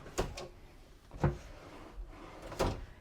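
A sliding closet door in a cruise ship stateroom on the MSC World America runs along its track in three separate short rolling bursts, near and fairly quiet, with no talk over it.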